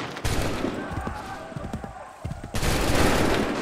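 A volley of musket gunfire erupts on command in Assassin's Creed 3, a dense burst of overlapping shots with a sharp crackling onset, loud and near after a shouted order.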